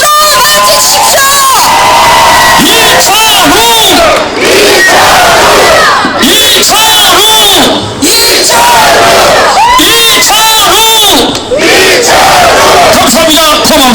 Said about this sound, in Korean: 이철우 후보를 큰 박수로 맞이하십시오